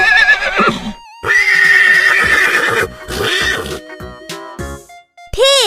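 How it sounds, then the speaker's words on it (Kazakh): A cartoon horse whinnies loudly in a couple of shaky, quavering bursts, with brief clip-clop hoof beats and music accents between them. "Horse. Жылқы."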